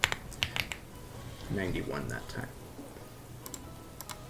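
Someone is fast-typing on a computer keyboard, making quick bursts of key clicks at close range, partly under a brief spoken phrase in the middle, with more taps continuing after it.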